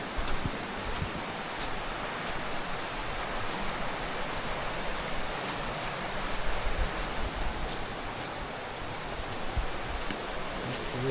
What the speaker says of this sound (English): That's the river down there.